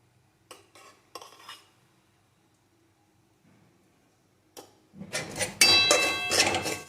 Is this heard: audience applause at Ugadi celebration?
no